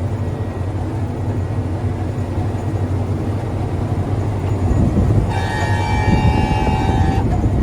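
A tractor horn blares in one sustained honk lasting about two seconds over the tractor's low, rumbling engine.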